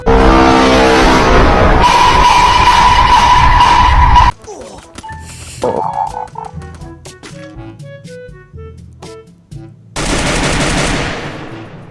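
Loud, dense shotgun blasts in a video game open the clip, then a quieter stretch of scattered game sound effects before another heavy burst of shooting.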